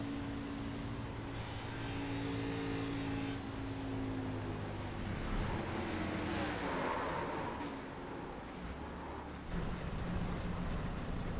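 Race car engine in a racing game at Talladega Superspeedway, dropping in pitch as the driver lifts off the throttle, a steady loud drone with falling tones and no talk over it.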